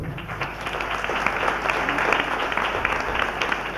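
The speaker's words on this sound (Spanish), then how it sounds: "Y aplauso para el hermano." A congregation applauds a preacher at a church gathering, a steady wash of many hands clapping at close range, dense and continuous for a few seconds with no clear talk over it.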